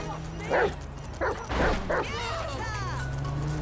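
Dog character in the video game GTA 5, with the player transformed into a dog, barking in several sharp, close bursts spaced over a few seconds above a steady game background hum.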